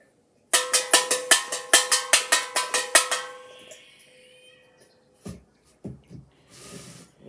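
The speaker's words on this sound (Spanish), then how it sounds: "Este es el sonido de la campana pequeña." Small Christmas bell shaken rapidly, about a dozen bright metallic rings in quick succession for about three seconds, then a fading ring and a few soft handling noises.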